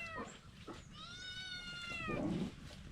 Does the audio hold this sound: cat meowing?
yes